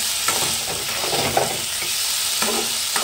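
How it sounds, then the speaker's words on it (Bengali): Spices fry and sizzle in hot oil in a pan while being stirred, a dense, continuous crackling hiss with small scraping stirs, close and steady throughout. "মশলা থেকে তেল ছাড়া পর্যন্ত কষাতে হবে"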